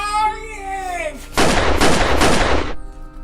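Three loud gunshots in a film burst in quick succession right after a tonal musical passage, followed by a fading echo.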